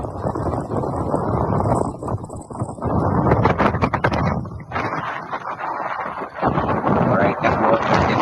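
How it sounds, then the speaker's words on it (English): Strong wind blowing at sea during a sailing passage toward Cape Town, a loud continuous roar with gusty surges and rushing wave noise, briefly easing twice before picking up again. "All right, definitely windy weather."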